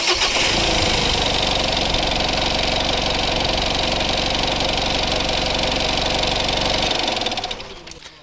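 A Mitsubishi L200 engine idles loudly and close after repair, with a steady rumbling rattle, then winds down and cuts off near the end.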